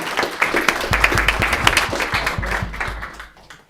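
An audience at a Peoria Board of Education meeting applauds. The clapping is brisk and dense at first, then thins out and fades to a few scattered claps.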